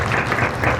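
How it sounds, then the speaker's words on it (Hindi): A crowd at an Independence Day ceremony of a railway division claps loudly after an award is announced, a short, dense, full burst of applause close by. "जोरदार तालियां।"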